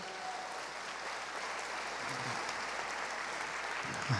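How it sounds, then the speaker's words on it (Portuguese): Church congregation applauding during a worship service, a steady dense wash of clapping that fills the room evenly and stays loud throughout without a break. "Vamos aplaudir a Ele, que é digno de glória."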